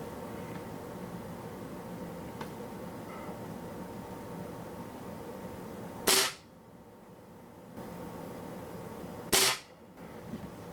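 Two sharp, loud pellet rifle shots from a Swiss Arms TG-1 .177 firing H&N Barracuda Hunter Extreme 9.26 grain pellets, about three seconds apart, each a sudden crack over steady outdoor background noise.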